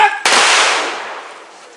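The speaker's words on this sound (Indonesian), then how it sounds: "Tembakan salvo mengiringi peti jenazah dimasukkan ke liang lahat." A police salvo is fired at a funeral as the coffin is lowered into the grave: one loud, sharp gunshot crack with a long, fading outdoor echo.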